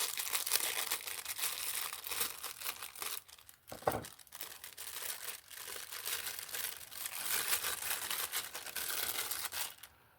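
Crinkling plastic rustles steadily, crackling close by as wrapping is handled and pulled, with one brief dull thump partway through and no talking.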